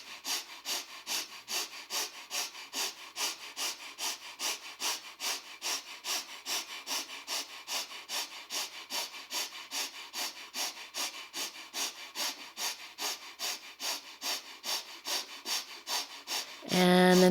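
Dynamic rhythmic breathing during a yoga exercise: forceful, evenly paced breaths, roughly two per second, repeating steadily for over sixteen seconds, close and breathy, with a brief low sound at the end.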